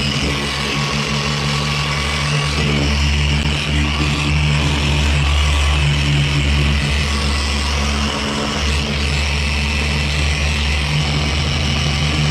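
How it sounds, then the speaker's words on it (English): Auger machine running steadily while cleaning a smoke-stained car headliner, a loud continuous motor drone with constant low hum that holds unchanged throughout, no talking. "And then we're gonna turn on our auger."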